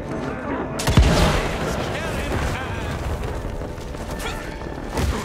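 Cannon fire in the game Evil West booms heavily near the start, followed by a dense rumbling barrage and mechanical clatter. Another thump lands near the end. Voices can be heard in the mix.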